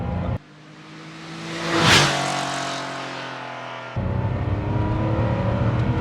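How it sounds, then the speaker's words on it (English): A 1987 Porsche 911 3.2 air-cooled flat-six roars loudly as it revs and accelerates, swelling to a peak then easing into a steady engine drone with road noise beneath. "The car's up to temp, so you can just hear that roar."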